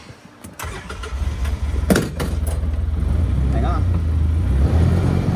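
A Polaris off-road vehicle's engine cranks and starts close by, then settles into a steady running drone as it pulls away, with a few short voices over it.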